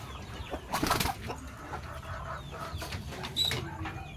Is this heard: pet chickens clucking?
yes